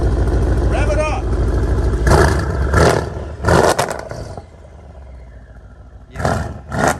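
A Mercedes CLS63 AMG V8 revving in short bursts, several sharp loud roars separated by quieter idle, with people talking between the revs.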